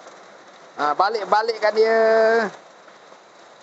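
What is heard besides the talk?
very heavy rain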